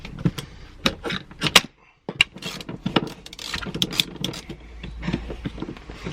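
Metallic ratchet clicks and clanks of tools undoing bolts on a Toyota Verossa during drift prep, close and irregular, with a short pause midway.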